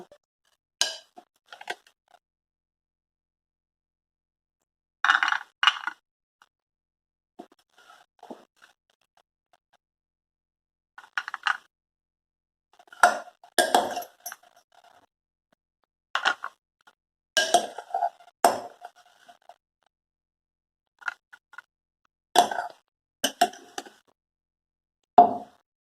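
Food for a no-cook healthy evening snack is served into a serving bowl. Scattered spoon scrapes, clinks and light knocks come in short bursts between silent pauses, close and clear.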